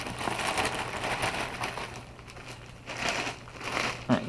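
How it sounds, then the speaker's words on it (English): Crinkling and rustling of packaging as a box holding a replacement 3D printer hotend is opened, close and steady with brief louder crackles near the end. "let's get to opening this package"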